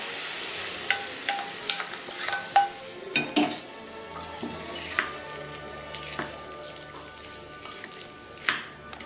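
Tempering of urad dal and curry leaves being stirred into cauliflower pieces for pickle, giving scattered soft clicks, scrapes and faint crackles of spoon against bowl, mostly steady with a few sharper knocks, no voices.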